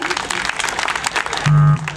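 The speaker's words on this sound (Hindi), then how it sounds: "तालियां हो जाएं" Audience at a social welfare conference applauds in a short, dense burst of clapping, and a sustained tone cuts in near the end.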